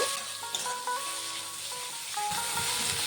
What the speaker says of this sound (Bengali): দিয়ে দেব পেঁয়াজ কুচি। পেঁয়াজটিকে দিয়েও একটু ভেজে নেব।